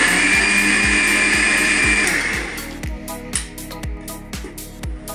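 A kitchen mixer grinder blends tomato masala for prawn curry, a loud whining motor with a rhythmic thumping churn that cuts out partway, leaving the jar clattering and knocking as it spins down.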